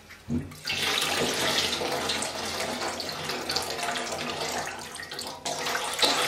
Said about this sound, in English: we need to pick this up and we need to let the whey drain out of our cheesecloth here